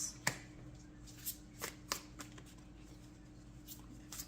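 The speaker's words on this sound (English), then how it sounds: "I'm going to go ahead and start shuffling and see what comes up" Tarot cards being shuffled by hand, giving a scatter of soft riffling flicks and papery taps against a quiet room hum, close and fairly faint with no talking.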